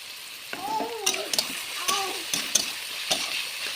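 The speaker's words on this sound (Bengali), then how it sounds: "প্রথমে গাজরটা দিয়ে দিলাম, অল্প একটু লবণ দেব, দিয়ে ভালো করে ভেজে নেব।" Carrots with a little salt stir-fry in a pan, a soft steady sizzle broken by scraping spatula strokes and light clinks against the metal.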